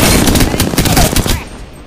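Rapid, loud gunfire from a PC video game shooting match, a dense run of close shots over about a second and a half that stops abruptly, with a voice faintly underneath.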